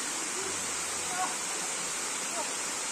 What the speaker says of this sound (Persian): اینجا آبشار آهکی اسکلیمه که 32 متر ارتفاع داره